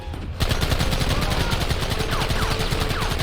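Rapid gunfire in Red Dead Redemption, dense overlapping shots bursting in suddenly after a brief quiet and continuing as a loud, sustained fusillade with whizzing ricochets.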